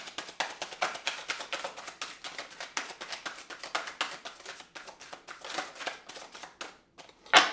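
Tarot cards are shuffled in a rapid, crisp riffling patter of soft taps and flicks, close and fairly quiet, with a brief pause near the end.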